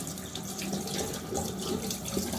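A faucet runs steadily into a sink while shaving lather is rinsed off after a wet shave, a continuous close splashing stream with no talking.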